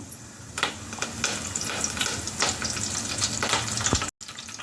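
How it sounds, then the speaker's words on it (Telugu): Curry leaves drop into hot oil already holding peppercorns, setting off a lively close sizzle with sharp spattering pops and a few stirring knocks, cut off abruptly near the end. "ఇప్పుడు కరివేపాకు వేస్తున్నాను"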